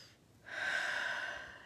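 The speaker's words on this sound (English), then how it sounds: "We're just breathing." Slow, guided breathing during a calm morning session: a single soft, drawn-out breath, quiet and close, lasting about a second after a brief pause.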